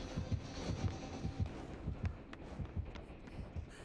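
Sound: killer heartbeat terror radius in Dead by Daylight video game

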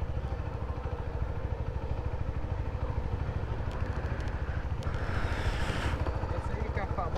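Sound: rented motorcycle

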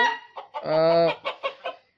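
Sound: chicken clucking

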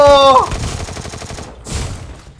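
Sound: gunfire in the video game Free Fire

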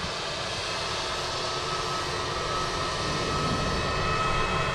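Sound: EasyJet airliner rolling for takeoff at Manchester Airport

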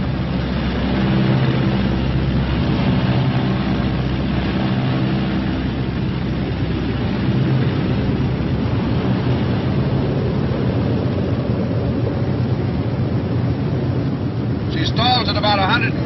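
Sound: B-26 bomber aircraft in flight during power-off stall

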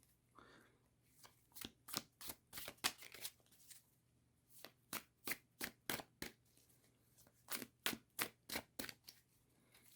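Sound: shuffling tarot cards

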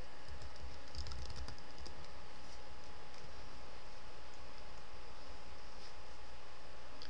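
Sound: typing a password on a computer keyboard

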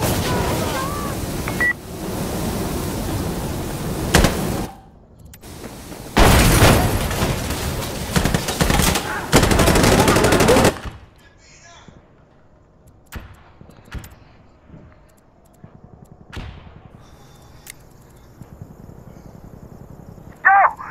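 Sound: gunfire in the video game Insurgency

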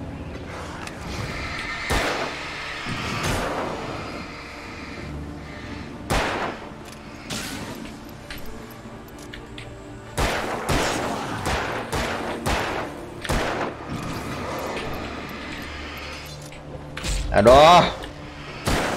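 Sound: gunshots in the video game Alan Wake

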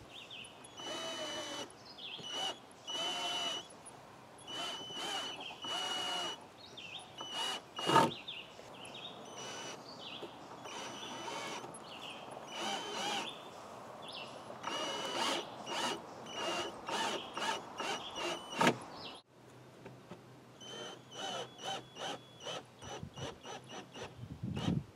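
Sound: power drill driving in screws on lawnmower trailer

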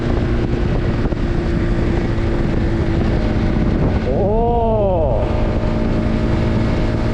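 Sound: motorcycle engine revving while being ridden

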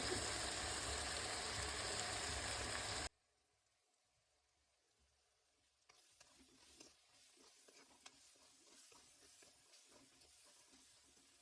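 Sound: spices sizzling in pan for chana palak

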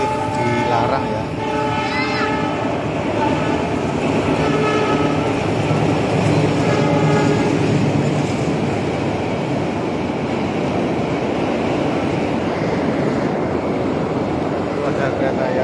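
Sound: train passing with horn

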